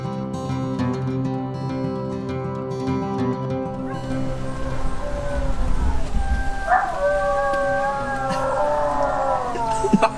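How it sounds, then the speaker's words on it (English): Several dogs howl in the morning, long drawn-out wavering cries that rise and overlap, loud and close, with a yip breaking in partway through. "The dogs have already met Ben and they're howling this morning because they want to go see him."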